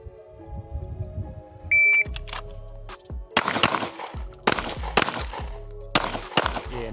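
Staccato P pistol shots fired on a range during an accelerator drill. A beep starts the string, followed by several sharp, loud, closely spaced cracks with short pauses between groups.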